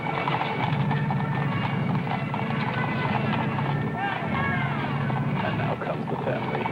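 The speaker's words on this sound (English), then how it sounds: "And the riderless horse." A riderless horse walks in the 1963 Kennedy funeral procession, its hooves clopping in a steady rhythm beneath someone commentator's voice amid crowd and outdoor ambience.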